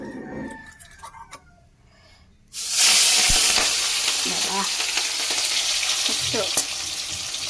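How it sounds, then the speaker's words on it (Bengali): Shrimp go into hot oil with a sudden loud burst of sizzling after a quieter opening. The frying then continues steadily and close by, with occasional stirring clicks. "এখানটায় তেল গরম করে ফেলেছি এখানে চিংড়ি মাছ নিয়ে নিয়েছি"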